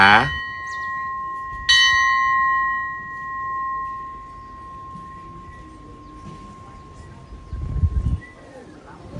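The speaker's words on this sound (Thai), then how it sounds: "ได้ยินเสียงลั่นระฆังนะครับ ก็แปลว่าขบวนรถธรรมดาที่ 257จากธนบุรี กำลังจะทำขบวนเข้าสู่สถานีรถไฟน้ำตกครับ" Railway station bell at Nam Tok station on the Thai Death Railway, struck twice to announce the arriving ordinary train 257 from Thonburi, each strike ringing out clear and slowly fading, with faint background noise after.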